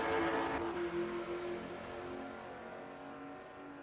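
Late model stock race cars in a sim racing short-track heat roar off at the green flag, a loud engine surge that quickly settles into a steadier, fading drone.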